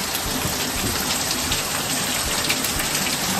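Heavy rain pours down in a dense, steady hiss and patter, loud and close, with no break and no voices.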